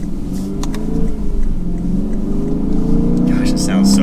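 A 2022 Lexus IS 500's V8 engine revs in a loud, close rumble that rises and swells as the throttle opens, with a voice talking over it.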